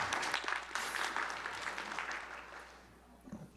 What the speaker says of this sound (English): Let's give a round of applause for our presenters.